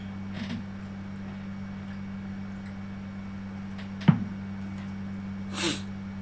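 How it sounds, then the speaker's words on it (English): A single sharp sneeze breaks out near the end, fairly quiet, over a constant low electrical hum with a brief click before it. "Oh, I do apologize for that sneeze attack."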